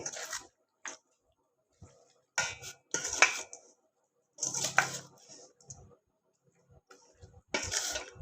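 Scraped fish mixed with its roe being stirred in a bowl, giving intermittent clinks and scrapes of utensil against the dish in short bursts separated by quiet gaps.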